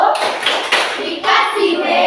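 Schoolchildren in a classroom clap a 'tepuk wow' clapping chant, a few loud, bright bursts of hand claps in an uneven rhythm close by.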